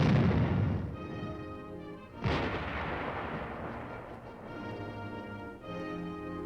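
An armored support weapon fires direct, a heavy booming blast at about two seconds that rolls into a long, loud rumbling echo over a continuous low engine-like drone, with no voices.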